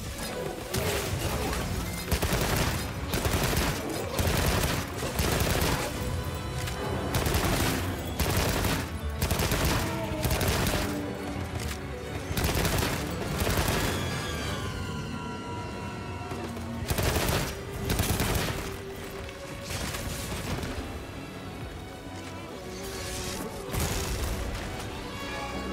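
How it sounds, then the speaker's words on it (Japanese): Land mine blasts in Monster Hunter Wilds, a dense barrage of loud repeated explosive bursts and crashing impacts rolling on continuously with rumbling game effects and a music bed, sustained throughout. "いや爆発した"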